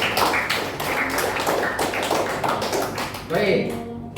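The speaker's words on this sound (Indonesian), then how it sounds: "Tepuk tangan dulu kelompok 1." A classroom of students claps for group one, a burst of close, uneven hand claps with voices mixed in throughout.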